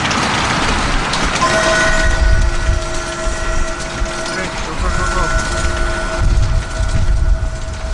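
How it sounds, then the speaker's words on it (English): A train rolls past near Walt Disney's Barn, a broad rumble with clattering wheels and sustained tonal horn or whistle lines, while people talk over it throughout. "Train coming!"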